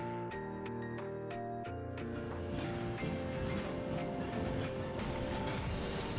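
The Victoria Peak tram in Hong Kong rumbles and clatters steadily along its track, with metallic knocks and a broad mechanical roar close by, no voices.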